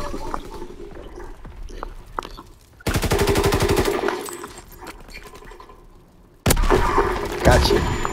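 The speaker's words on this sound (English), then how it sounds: "Oh, where did that shot come from?" Bursts of rapid automatic gunfire in the World War II shooter Call of Duty: WWII, two loud close volleys separated by quieter stretches with someone talking.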